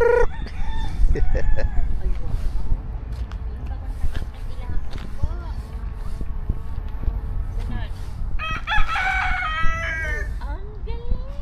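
Chickens clucking steadily with a rooster crowing loudly near the end, close and lively, with people talking over the birds throughout.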